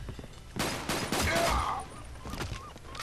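Walther P99 pistol gunfire in the shooter game 007 Quantum of Solace: a quick cluster of several loud shots mid-clip, then softer game effects and background sounds.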